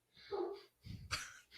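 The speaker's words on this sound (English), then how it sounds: "can you hear my dog right now?" A dog whimpers with a drawn-out whine, then breaks into a couple of short, close barks and a brief yip, loud and near with no human voice over it.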